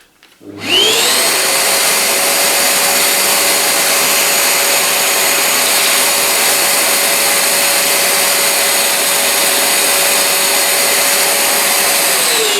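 A small cordless drill boring holes in a workbench top gives a steady, loud motorized whine that runs continuously after a brief start-up, holding one pitch with no pauses and no voices.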